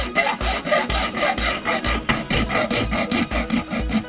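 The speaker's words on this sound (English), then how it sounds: "I'm just gonna use a hacksaw." A hacksaw cutting a section out on a Porsche 996 or 986 Boxster with quick, regular back-and-forth strokes, a loud rasping rhythm close by with no voices.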